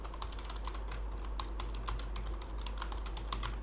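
Fast, steady typing on a computer keyboard while filling in a name field on a beginner HTML contact form, with close, crisp key clicks in an irregular stream over a low constant hum.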